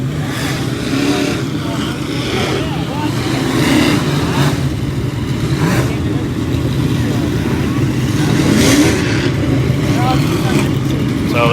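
Modified race cars circle the dirt oval at Grandview Speedway, their engines droning and swelling in steady waves as they pass, loud and continuous beneath a commentator talking throughout.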